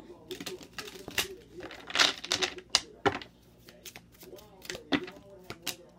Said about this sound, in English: Let's go ahead and do one more shuffle.